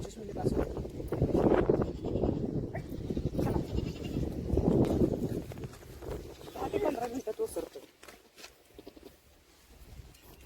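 A goat with a bloated belly, just dosed with medicine, bleats repeatedly at close range while a person talks over and between its calls.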